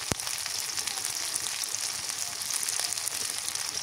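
Garlic paste sizzling in hot oil for a goat curry, a steady dense frying hiss throughout with a few crackles, close and moderately loud, no voices.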